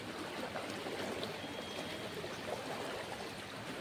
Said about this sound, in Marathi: पाण्याचा फोर्स बघा किती प्रचंड वेगाने पाणी येते